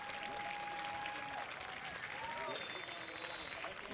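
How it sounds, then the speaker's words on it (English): A home crowd gives a farewell ovation to a retiring coach at a Lansing Common FC versus Livonia City FC soccer match, steady dense applause with a few whistles, heard faintly beneath an announcer's commentary. "Marco Bernardini receives his warm ovation by the home crowd"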